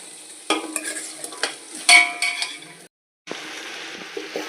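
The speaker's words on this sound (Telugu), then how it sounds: "ఇదిగోండి మటన్ బాగా ఫ్రై అయిపోయింది" Mutton for biryani being stirred and fried in a pan: close sizzling under repeated scraping strokes and light metallic clinks of a spoon against the pan, with a brief silent gap before the frying resumes.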